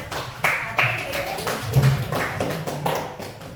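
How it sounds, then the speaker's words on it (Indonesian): A class claps for a student's answer in a lesson, with a few scattered claps and taps under a voice talking. "Jadi tepuk tangan untuk jawabannya ya"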